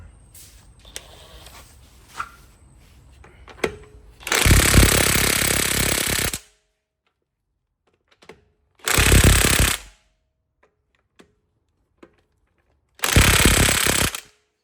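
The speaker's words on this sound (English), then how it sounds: "I'm gonna use a 19mm impact socket with an impact gun to remove" An impact gun with a 19mm socket works the wheel lug nuts on a 2019-2025 Nissan Altima. Three loud, close, rattling hammering bursts are separated by silence, with faint clicks and handling noise before the first.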